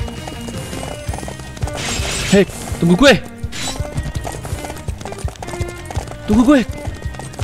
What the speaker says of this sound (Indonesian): Kuda gue mana?